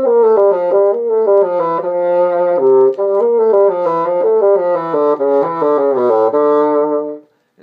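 A bassoon plays a passage from Weissenborn study no. 15, Allegro scherzando: a steady stream of connected, moving notes, close and fairly loud, with no talking, ending in a brief fade.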